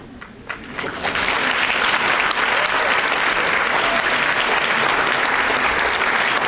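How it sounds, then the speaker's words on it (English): An audience breaks into loud, sustained applause that swells quickly and holds steady, dense clapping filling the room. "A warm applause, please."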